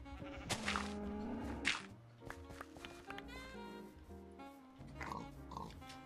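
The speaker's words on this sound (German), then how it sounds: "Ah, da ist ein Schäfli." Sheep bleating in the video game Minecraft, set in a petting-zoo build, with several short bleats and animal calls over game music while people chat in Swiss German.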